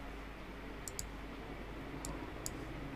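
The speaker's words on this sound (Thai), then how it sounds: "คลิกยอมรับในนี้เอาเลยนะ" A computer mouse gives a few faint, crisp clicks, two close together then two more spaced out, over a low steady background hum.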